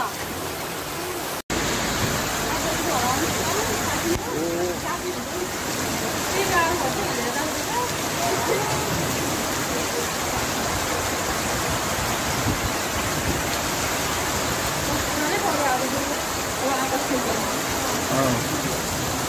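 Heavy, sudden rain pours down in Gorkha on an evening, a dense unbroken roar of water close by that runs steadily for many seconds after a brief cut near the start.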